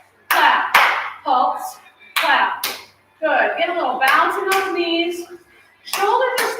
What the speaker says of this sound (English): Bring it out wide and pulse, clap, pulse, clap